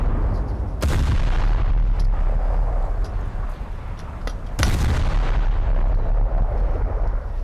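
Naval cannon fire in War Thunder, with two loud, sharp booms about four seconds apart over a constant heavy rumble of engine and sea noise.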